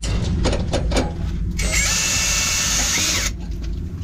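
An angle grinder cuts through a steel screw, its harsh whine rising after a few short bursts and holding steady for about two seconds before cutting off, loud and close with no talk.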